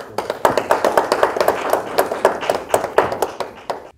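Audience at an Easter mushaira poetry gathering clapping to welcome a poet, a light rhythmic patter of hands from a modest crowd, fairly close and even throughout.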